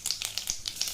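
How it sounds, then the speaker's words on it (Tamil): Mustard seeds pop in hot cooking oil as rapid, sharp crackles, about half a dozen bursts in one second over a soft sizzle, close by. "கடுகு வெடிக்கிறது"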